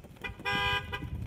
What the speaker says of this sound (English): see if I could get a car to honk at me